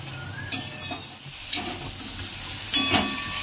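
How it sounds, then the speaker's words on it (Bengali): Spice masala for soybean curry fries on low heat in a pan, with a soft continuous sizzle up close and three distinct scraping stirs of a spatula against the metal. "এবার একটু হালকা আঁচে এটা একটু কষাবো"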